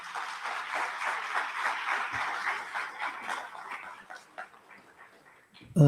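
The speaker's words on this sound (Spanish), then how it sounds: "Fuerte los aplausos, por favor." An audience at a formal judicial ceremony in La Paz applauds in a dense, sustained patter of clapping that gradually thins and fades, followed by a short sharp noise at the end.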